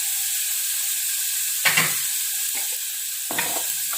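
Spice paste frying and being stirred in a pan for a spiced Nipah banana dish, a steady sizzle broken by a few short scraping stirs, close and alone.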